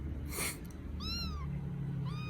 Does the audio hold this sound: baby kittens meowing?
yes